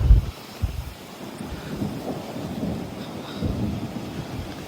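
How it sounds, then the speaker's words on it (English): Storm wind buffets the microphone in steady low roaring gusts, with deep thunder rumbling loud and close at the start and rolling on underneath, no talking. "Here's the wind."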